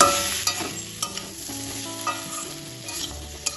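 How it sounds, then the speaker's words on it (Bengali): Ground chilli, cumin and black pepper being stirred and fried in a pan, a steady close sizzle with repeated scraping strokes of a spoon throughout, no voices. "ভালোভাবে সব মশলাটা কষিয়ে নেব"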